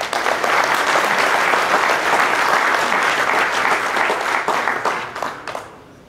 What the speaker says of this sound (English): Give a round of applause to Tommy Thomas